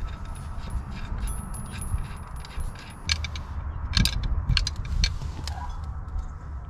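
Ratchet wrench tightening sway bar link nuts on a fifth-generation Ford Explorer, with rapid metallic clicking in bursts and a few clanks of tools against the suspension, close up in a garage with steady background hum.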